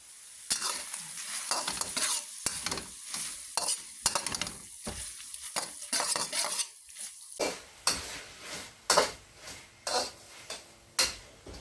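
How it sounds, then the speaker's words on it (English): Beef stir-fried in a wok over high heat: a steady sizzle punctuated by repeated scraping and clanking strokes of a utensil against the pan, close and fairly loud, with no talking. "we're going to continue stir frying this just until this beef finishes cooking through"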